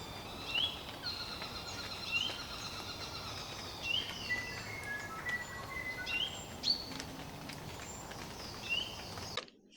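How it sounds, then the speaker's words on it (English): Several native New Zealand forest birds, including saddlebacks and kākās, call and whistle in short, bright phrases scattered over a soft background hiss, moderately distant, in a mountain forest bird reserve. "I got lots of recordings of native birds, including the saddlebacks and the Kākās again."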